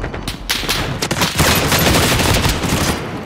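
Loud, dense gunfire in a Call of Duty: Modern Warfare match, with rapid automatic bursts and overlapping shots rolling continuously for several seconds, close and aggressive with no talk.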